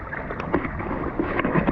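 Canoe or kayak paddling on the Comal River in New Braunfels, with irregular splashes and water swirls over steady outdoor water noise, close by.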